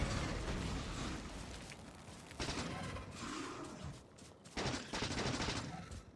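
Turrets firing in the video game Factorio, quiet repeated bursts of rapid mechanical shots with gaps between volleys, heard fairly far off and low in level.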